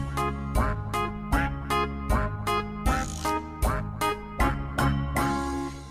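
Rhythmic quacking of ducks set into a Slovak children's counting song about five little ducks swimming away, repeating in a steady beat over bright musical backing with no talking.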